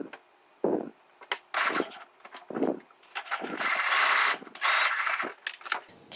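A sewing machine stitching the straps of a Japanese knot bag with a quarter-inch seam, running in short and longer bursts of rapid mechanical whirring separated by quiet pauses.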